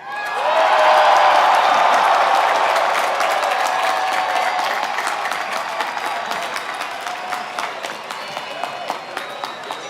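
Engineering graduates at a 2017 college commencement erupt in loud cheering and applause. The dense crowd roar peaks early, then thins into steady, scattered clapping across the hall.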